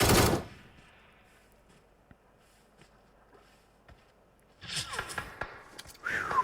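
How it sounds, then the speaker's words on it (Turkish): Gunfire in the mobile battle-royale game PUBG Mobile: a burst at the start, a few faint isolated shots through a quiet middle, then rapid bursts near the end with muffled talking. "Arkadaşlar bu taraftan sıkıyorum."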